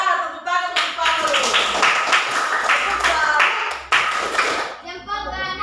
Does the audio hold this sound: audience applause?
yes